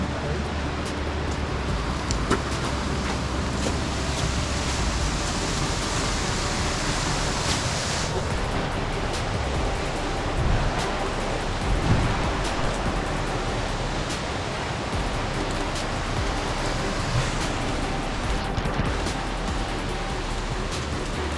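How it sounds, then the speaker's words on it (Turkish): Haraz waterfall in the Amanos Mountains' İncebel canyon sends a mountain stream rushing past, a loud, continuous broadband roar of water, close by, that stays steady throughout. "su ne biçim akıyor"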